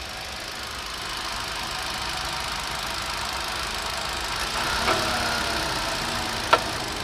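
A Hyundai Accent engine idles with the air conditioning on, shaking and misfiring, with a constant low hum and faint vibration, plus a couple of small clicks near the end.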